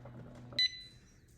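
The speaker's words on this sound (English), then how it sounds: "It beeped 10 times." A pressure canner's electronic timer gives a short, faint, high-pitched beep over quiet room noise, after a low hum cuts off; only one brief chirp is heard.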